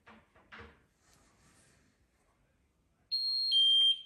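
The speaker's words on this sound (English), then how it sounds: "it doesn't stop buzzing until you actually open the door" A Miele W1 Excellence washing machine sounds its end-of-cycle alert, a loud, steady high-pitched buzz that starts after a few soft clunks and quiet handling noises and continues without pause to the end.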